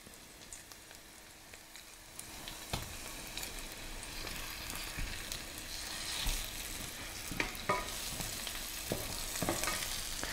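Artisanal Gabonese peanut paste fries in a pan with a little oil while being stirred, a close crackling sizzle broken by scraping stirring strokes, quiet and steady without speech.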